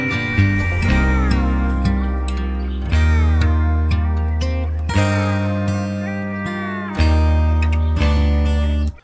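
A full country rap beat loop with steel guitar, sliding twangy melody riding over thick low bass notes in repeating sections, loud and without talk.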